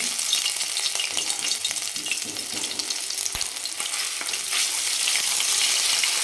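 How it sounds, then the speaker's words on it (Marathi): Ginger garlic paste sizzling in hot oil, a continuous bright hiss and crackle with occasional stirring, close and steady with no talking. "तर तेल गरम झाल्यानंतर आपण याच्यामध्ये जे आपण आलं लसूण घेतलं होतं त्याच्यातलं थोडंसं ठेवलेलं आहे ते टाकून देऊ"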